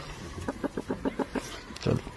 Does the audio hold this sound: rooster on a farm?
yes